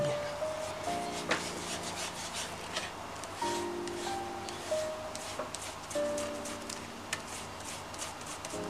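Brush spreading Distress Oxide ink across a paper tag, repeated scratchy rubbing strokes in bursts with short pauses, close up and fairly loud.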